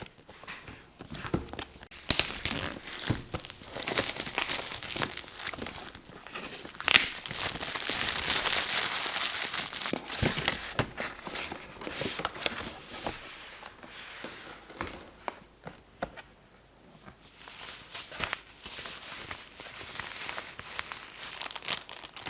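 Sony WH-H910N h.ear on 3 Wireless ANC headphones are unboxed, and the packaging crinkles and rustles close up and almost without pause, with louder bursts of tearing and handling in between and no one speaking.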